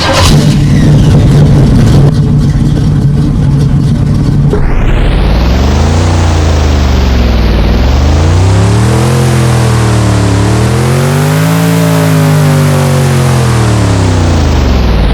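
A 1970 Chevrolet El Camino SS in a driving game cranks over and catches, then settles into a loud, steady V8-style idle with rising and falling revs, heard up close with no voices.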